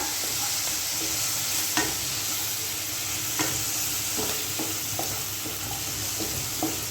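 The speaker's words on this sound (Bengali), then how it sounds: "একটু নাড়ো সোয়া সসটা।" Dry dragon chicken pieces with soy sauce are stirred in a hot pan, a constant sizzle underneath regular spatula scrapes and taps, close and steady, without speech.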